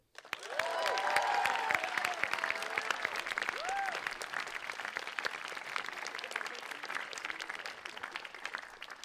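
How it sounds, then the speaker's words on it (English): Audience applause fills a college closing ceremony at UWC Robert Bosch College in 2022: dense, steady clapping from a large crowd that swells early, carries a few brief whoops or whistles, and holds up loudly for about nine seconds. "Please, with the applause,"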